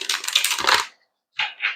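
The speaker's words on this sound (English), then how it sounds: "We're going to shuffle" Tarot cards being shuffled before a reading: dense papery riffling bursts for most of a second, a short silence, then two further quick shuffles, close and fairly loud with no talking.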